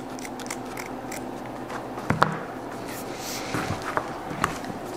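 Scissors snip through scrim material, cutting it into quarter-inch strips: a few sharp, close cuts, one prominent near the middle and more toward the end, over a quiet room background.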